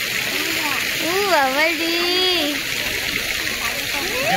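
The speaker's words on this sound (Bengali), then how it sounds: "পাপা জল পড়ছে, জল জল, এই যে জল" Water falls and splashes steadily in the background while a voice speaks over it in a high, excited tone.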